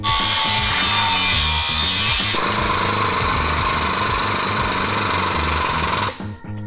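A tube bender works 1 3/4 inch welded steel tubing on an old Ford tow truck front-end build with a loud, close, rhythmic mechanical pounding under a harsh high grinding whine that eases partway through and stops abruptly.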